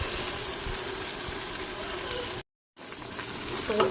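Cumin seeds with ginger-garlic and green chilli paste frying in oil for aloo keema, a dense, even hiss of sizzling close up, broken by a brief full silence midway before the frying resumes.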